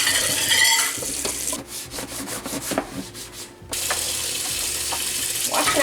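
Running water and scrubbing as an item is washed in a kitchen sink under the tap; a steady hiss with rubbing strokes, briefly breaking off midway before the flow resumes.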